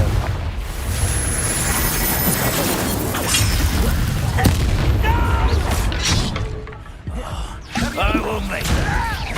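Loud booming spell blasts and crackling magical impacts from combat in Hogwarts Legacy, with an Incendio fire spell, layered over dense game noise and music while a player shouts.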